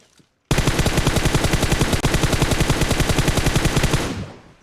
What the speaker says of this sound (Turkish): Bayağı vurdum adamı hasarladım bu arada.